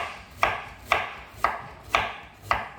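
A knife chops vegetables for kimchi on a cutting board, five evenly spaced crisp thuds about half a second apart, close and clear, with no talking.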